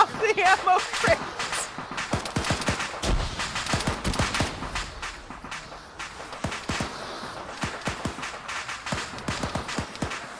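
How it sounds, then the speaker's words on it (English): Rapid popping and cracking of ammo crates cooking off after explosives in a zombie survival game, an irregular run of sharp reports scattered through the whole stretch, dense at first and then sparser, with voices talking over it. "using explosives and they're cooking off the ammo crates"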